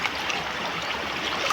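Laundry is rinsed by hand in a river, a steady near wash of flowing, splashing water with light trickling, unbroken across the short clip.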